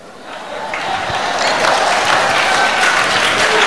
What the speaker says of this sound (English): So clap for Jesus.